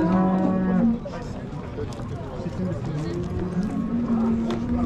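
A cow moos loudly up close at a busy livestock market, a long low call followed later by another, over crowd noise and people talking.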